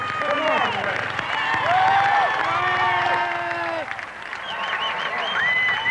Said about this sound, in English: as the Northmen leave the field to the applause of their hometown audience